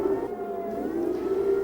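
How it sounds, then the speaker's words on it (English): A steady, droning warning siren wails continuously at a sustained pitch, loud and unbroken throughout. "The sirens a constant reminder of the threat from the north."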